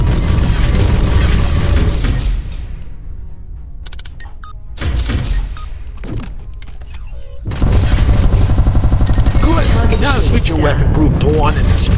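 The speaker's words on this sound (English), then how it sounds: "Try to use your lasers to shut down the target shield" Fighter ship lasers fire in the space video game Spacebourne 2. Loud, dense bursts of rapid zapping and booming shots come in two long stretches, with a quieter pause between them.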